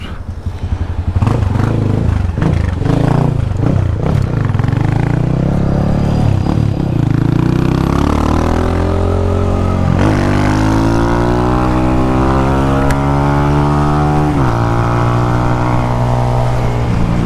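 A 150cc motorcycle in Jamaica revs loudly and close, its engine rising and falling through several throttle blips before settling into long rising pulls as it accelerates through gears, with no talk.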